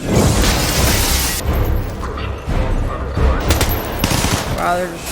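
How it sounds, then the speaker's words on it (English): Rapid bursts of film gunfire from No Time to Die crackle loudly and almost continuously over a dense action mix, with a few sharper shots standing out toward the end. "they're just shooting every single person"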